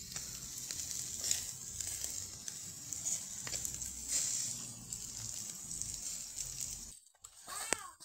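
Food grilling outdoors gives off a steady hiss and crackle with a few louder pops. The sizzle runs continuously and is cut by a brief gap near the end.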